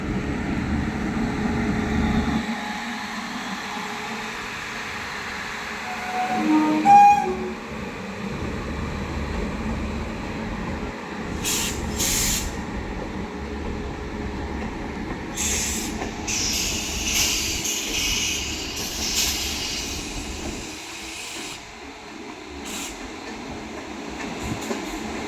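A train waits stopped at Ghaziabad while an Amrit Bharat Express overtakes it on the next track, giving a steady rail rumble with brief metallic clatter and squeal bursts passing close by.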